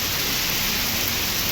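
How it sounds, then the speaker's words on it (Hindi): A sudden heavy downpour hisses in a dense, unbroken wash of rain, loud and close, with no voices over it. "एक तरफ धूप है और एक तरफ बारिश है, ये हाल है भाई।"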